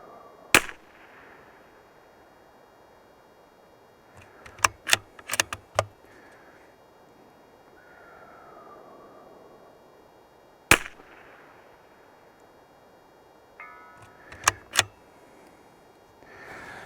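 A .22 LR rimfire rifle fires sharp single cracks, some in quick clusters and others spaced seconds apart, over quiet outdoor background.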